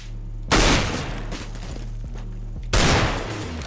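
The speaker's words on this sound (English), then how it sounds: "I'm throwing a flashbang!" Two loud broadband bursts from a thrown flashbang grenade in CS:GO competitive play, each a sudden bright blast with a ringing tail, spaced about two seconds apart over low steady game ambience.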